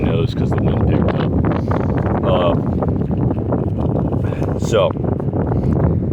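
Strong wind gusting over a boat on open water, a loud continuous buffeting rush with microphone rumble, while a person talks over it.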